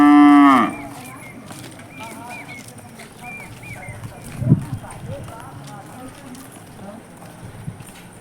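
A buffalo gives a loud, close moo at the start at a village house where buffaloes are kept, followed by quieter livestock shuffling, a thud and hoof-like clops, while someone talks over it.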